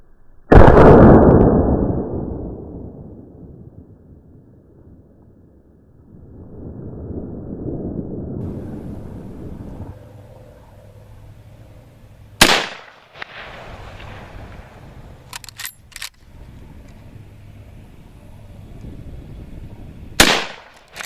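Marlin 336 lever-action rifle shots at targets: one loud close crack that rings off slowly, then quiet handling noise, two more sharp reports at about 12 and 20 seconds, and faint clicks of the action between them.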